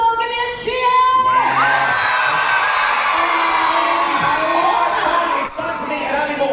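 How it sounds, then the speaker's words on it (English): A crowd of children and families at a Butlins Bognor dinosaur show yells, whoops and cheers for Team Dinosaur, a loud sustained roar of excited voices with high shrieks rising over it. "If you are a big fan and you are on Team Dinosaur, give me a cheer!"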